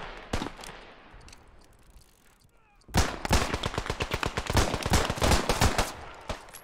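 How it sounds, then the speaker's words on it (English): Machine gun fire in the video game Beyond The Wire: a few isolated shots, then a dense, loud run of rapid automatic bursts hammering close by for several seconds. "That motherfucking machine gun was so angry."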